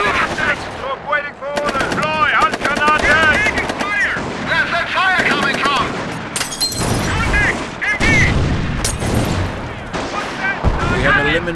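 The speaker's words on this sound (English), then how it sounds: "Taking fire from enemy infantry! MG position ready!" Sustained machine-gun fire and scattered explosions fill a World War II battle in Company of Heroes, loud and layered, with shouted soldier voices over the rattling bursts.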